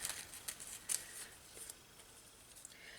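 Scissors trim around small paper napkin roses in a handful of soft, quick snips close by, faint and crisp with brief pauses between cuts.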